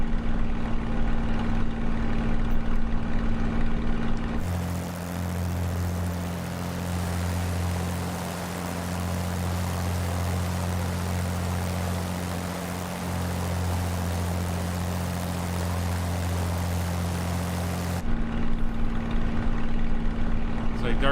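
A Spitfire's piston engine and propeller in flight at 2,400 RPM with 4 inches of boost, climbing toward 2,000 feet, a loud steady droning hum with strong low tones, heard from inside the cockpit with a brief shift in tone partway through.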